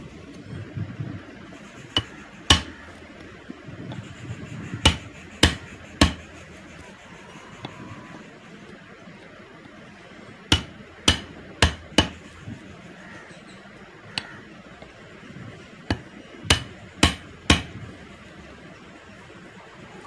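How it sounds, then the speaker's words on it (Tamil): A hammer strikes a steel chisel to cut a tapered hole in wood, giving sharp, loud single knocks spaced irregularly in small clusters, with quiet pauses between them. "உளியை திருப்பி அடித்து இந்த சைடு டேப்பராக இருக்கும், அதையும் சுத்தம் பண்ணி கொஞ்சம் கொஞ்சமாக அடித்து எடுக்கணும்"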